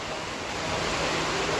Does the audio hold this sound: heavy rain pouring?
yes